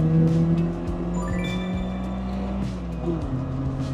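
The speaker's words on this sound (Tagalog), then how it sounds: "lahat ng narinig mo ngayon is coming from the engine noise" A 1992 Honda Civic fitted with a new muffler and headers pulls from second gear, its engine drone rising steadily in pitch under a smooth, continuous exhaust tone heard from inside the car.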